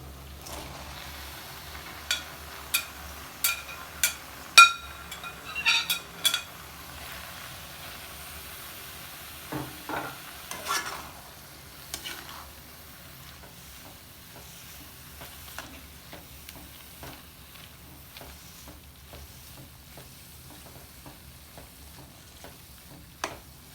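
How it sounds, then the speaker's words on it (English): Chopped tomatoes drop into frying chili garlic paste, giving a series of sharp clatters and spoon stirs followed by a soft, steady sizzle that continues quietly. "This is the time we can add the chopped tomatoes."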